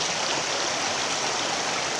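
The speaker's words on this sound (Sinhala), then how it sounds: "ওই වාරි වෙල්ලේ වතුර හොඳින් ගලාගෙන යනවා" Water rushes steadily along an irrigation canal near the Madola river, a dense, loud, unbroken wash with no pauses.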